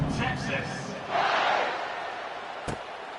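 A football stadium crowd roars after a touchdown, a swelling wash of cheering that rises briefly in the middle, with a commentator talking over the start.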